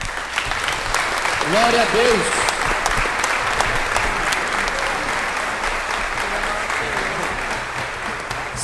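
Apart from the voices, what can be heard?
church congregation applause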